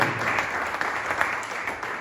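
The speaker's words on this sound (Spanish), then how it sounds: "Dale un fuerte aplauso a la palabra del Señor" A church congregation claps in steady dense applause during a Spanish-language Bible study service, a broad hiss of many hands filling the space for two seconds with no voices over it.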